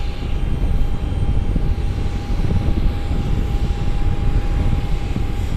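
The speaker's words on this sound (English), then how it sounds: "It's another 737 MAX. It's a MAX 8." A Southwest Boeing 737 MAX 8 airliner at Cleveland's airport gives off a steady, loud jet-engine roar with a constant whine running through it, unbroken for the whole stretch and with no voices.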